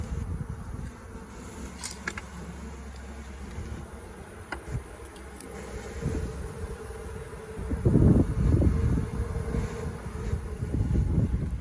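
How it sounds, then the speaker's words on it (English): A close, steady hum of many honeybees buzzing in an open hive, with wind rumbling against the microphone and swelling louder toward the end. "you can see there's bees all the way through all this"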